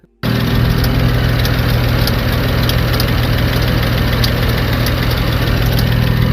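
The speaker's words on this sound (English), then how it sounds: "So we turned the car on, and immediately the belt was squeaking." A BMW 335i engine idles loudly and steadily at close range, with a high, faint chirping squeal from the belt tensioner repeating over the running motor.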